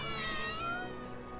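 A cat meows repeatedly in Final Fantasy VII Remake, a close, clear run of tonal cries that fades toward the end, with faint game ambience beneath.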